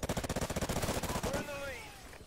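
Rapid automatic fire from a Bizon submachine gun in a first-person shooter video game, a fast steady burst of loud close shots lasting over a second, then a ringing tail fading out.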